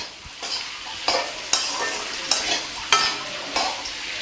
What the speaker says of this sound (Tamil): இது வந்து நல்லா வதங்கணுங்க